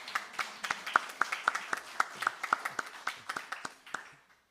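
Scattered claps from a small Unitarian Universalist church congregation thank the violinist, flutist and keyboard player at a Sunday service, a modest ragged round of individual claps that thins out and stops.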